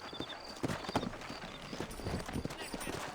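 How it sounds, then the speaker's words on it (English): Horses in the Red Dead Redemption video game clip-clop steadily at close range in a town near a fort, with a brief whinny among the hoofbeats and a game backdrop underneath. "You ain't gonna find sturdier horses than these in all of New Ulster."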